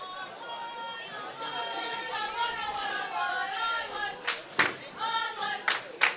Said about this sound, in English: There we hear some cheering.